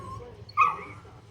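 Dogs give a short whimpering yip close by in a garage during a Ford F-150 rear differential fluid service, a single high cry over a quiet background.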